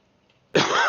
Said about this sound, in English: I hate to keep coughing in people's ears.